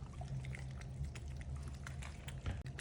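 Water pours for pet cats as they eat, a faint, close trickle and splash under soft household background noise.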